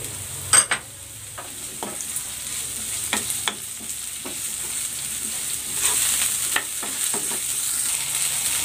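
Chopped garlic and onion sizzling in hot oil in a pan, a continuous bright frying hiss with a few sharp clicks of stirring scattered through it, heard close and alone.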